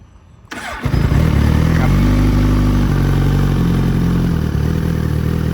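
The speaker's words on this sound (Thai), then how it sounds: "เดี๋ยวฟังเสียงเครื่องกันครับ คันนี้เป็นระบบสตาร์ทไฟฟ้านะครับกดทีเดียวนะครับ" Suzuki GSX1000R L8 sportbike, 2018 model, fired up with a single press of the electric starter, catching within a second and then settling into a loud, steady, close-up idle rumble.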